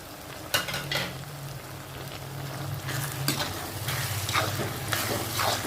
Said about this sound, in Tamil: பொடியாக வந்து 3 தக்காளி வந்து கட் பண்ணி வச்சுருக்கேன், அதையும் போட்டுக்கிறேன்